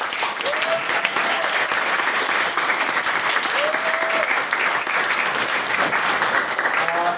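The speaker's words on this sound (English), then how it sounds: "We'll give a round of applause on this for that." Audience applauding after a debate, dense sustained clapping held at an even level throughout, with a faint voice briefly rising above it.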